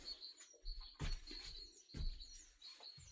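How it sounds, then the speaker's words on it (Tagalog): Birds chirp and tweet steadily outdoors, a thin high call repeating, with a few soft thumps and rustles nearby. "Naririnig nyo yung huni ng ibon?"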